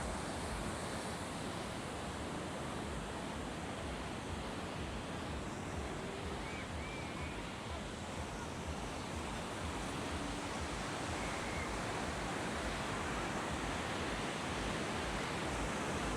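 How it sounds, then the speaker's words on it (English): Continuous roar of big ocean surf breaking on a beach in Da Nang, steady and broadband with wind noise mixed in, no voices. "Let's check out the waves."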